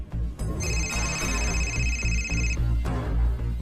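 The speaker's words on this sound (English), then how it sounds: "I thought I had turned my phone off." A mobile phone rings with a bright electronic tone that holds steady for about two seconds, set over a low ambient rumble and some faint knocks in a quiet indoor space.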